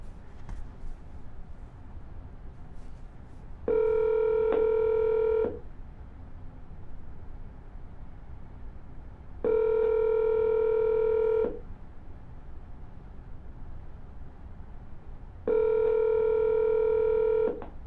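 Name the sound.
telephone dialing tones, double dialing a call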